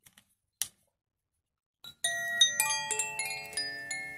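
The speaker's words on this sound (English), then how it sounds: "That's the water bell." A water bell called Aqua rings with a cluster of bright, shimmering metallic chime tones that sustain and overlap, preceded by a few faint soft taps in near silence.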